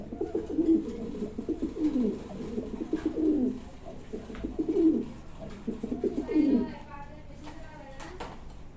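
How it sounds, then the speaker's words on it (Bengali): Pigeons coo repeatedly in a close, rhythmic series of soft, throaty calls, with someone talking over and between them. "যে কোয়ালিটি কবুতরগুলো খুব কম পাওয়া যায়।"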